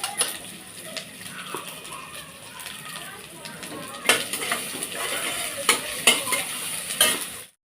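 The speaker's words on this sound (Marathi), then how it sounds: "टोमॅटो बऱ्यापैकी परतले की थोडीशी आपण हळद घालणार आहोत" Tomatoes sauté in hot oil for an urad dal amti tempering, a steady sizzle with a spoon stirring and scraping the pan, and a few louder clatters near the end; a voice talks over the cooking.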